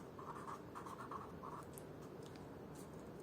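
A pen or marker scratches out a short word in a few quick strokes during a math lesson, faint and close, with small pauses between the strokes.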